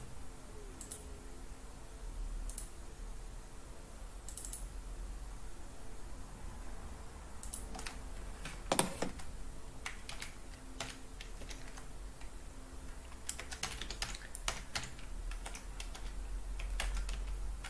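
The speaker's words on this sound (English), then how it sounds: "I'm really not typing properly today." A computer keyboard clatters with bursts of quick keystrokes separated by pauses, close and fairly quiet over a low steady hum.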